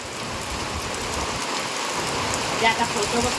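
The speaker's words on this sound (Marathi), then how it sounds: "हा बघा पाऊस पण आला आता साडेपाच वाजले संध्याकाळच्या भरपूर पाऊस आहे" Heavy evening rain in the Konkan, a dense and steady outdoor downpour that fills the whole scene, with faint patters and a few soft sounds near the end.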